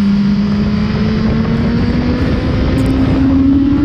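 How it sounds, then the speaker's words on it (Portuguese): A Suzuki SRAD 1000 R motorcycle engine revs hard under full throttle, a loud, close, continuous howl whose pitch climbs steadily as it accelerates. "Agora eu vou acelerar ela tudo aqui"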